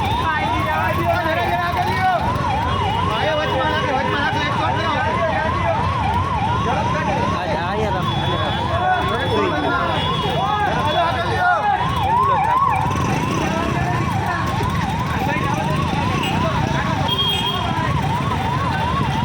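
An ambulance siren wails, cycling steadily up and down throughout, loud and close, while the ambulance is stuck in a traffic jam on hospital grounds, over a dense bed of traffic noise and running engines, with voices mixed in.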